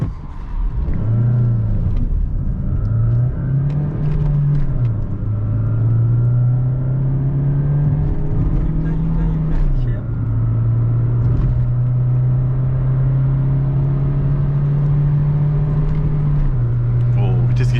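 A 2005 Opel Astra G Classic 1.6 Ecotec engine drones at high revs uphill, its pitch climbing and holding steady, with people talking over the sustained hum.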